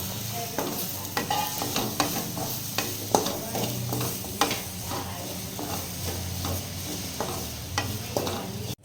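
Shallots and grated coconut stirred as they fry in a pan for Kerala-style karimeen fish curry, an even sizzle under frequent scraping spoon strokes and knocks against the pan, without any voices.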